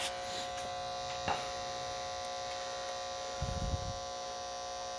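A magnetic amplifier coil gives a steady electrical buzz with a low mains hum droning throughout, with a couple of faint clicks and a brief rumbling bump near the end.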